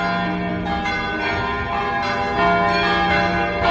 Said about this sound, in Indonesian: Lonceng gereja Taman Getsemani sudah mulai berdentangan.